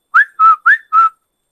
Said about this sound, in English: that is a call of the same bird, the brain fever bird.